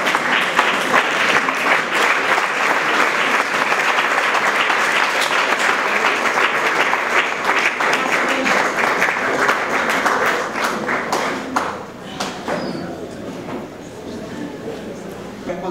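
A church congregation at a worship concert gives loud, dense, sustained applause that fills the room, then thins toward the end with a few scattered claps.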